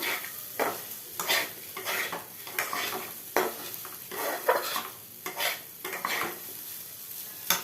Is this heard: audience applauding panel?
no